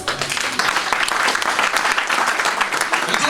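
A church congregation applauds during worship, a brief, loud, steady burst of many hands clapping with crowd noise, no speech over it.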